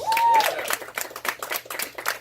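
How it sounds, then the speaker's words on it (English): Scattered clapping from a small audience at a live poetry night in an Orlando coffee shop, opening with a brief whistle-like tone before uneven, moderately loud claps continue without a voice over them. "Give that brother a nice round of applause."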